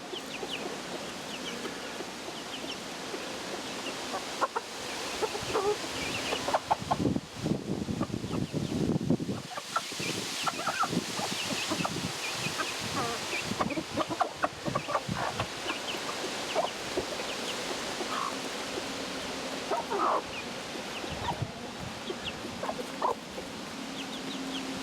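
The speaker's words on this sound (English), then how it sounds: "I open that door to let the bantams out to do some free ranging" Bantam chickens free ranging outdoors after being let out of their coop, clucking and chattering in a steady, busy stream of calls over rustling ground noise, with no talk.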